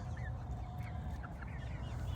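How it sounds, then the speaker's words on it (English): Chickens clucking in short bursts over a steady low rumble of background noise, with a few higher chirping calls scattered throughout. "We got to show the people the chickens, Smoke."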